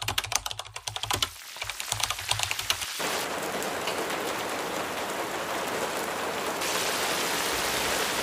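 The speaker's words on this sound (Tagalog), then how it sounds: "Pero umuulan po." Rain in a park starts as scattered pattering drops, then becomes a steady, dense hiss of rainfall that continues without pause.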